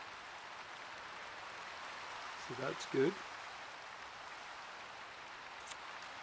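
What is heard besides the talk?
rain falling in the video game Minecraft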